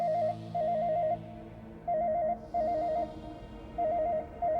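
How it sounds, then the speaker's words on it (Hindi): A telephone rings in a Hindi TV drama scene, with repeated warbling electronic ring bursts in a steady on-off rhythm over a faint room background, clear and fairly close. "किसका फोन आ गया अब?"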